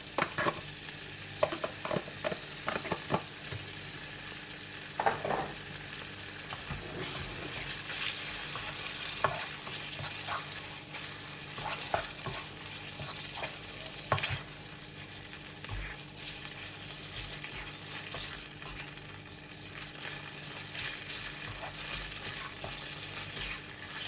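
Chicken sizzles in a hot pan while being stirred, a continuous soft frying hiss broken by scraping and clinking of the spoon against the pan, fairly quiet with no talking.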